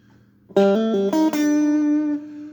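Guitar riff, a short run of bright plucked notes stepping through a quick melodic figure and ending on a held ringing note, close and unaccompanied.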